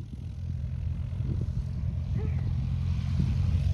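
An airplane on the runway at an airport rumbles with a steady low engine drone that grows slightly louder, heard from a distance outdoors.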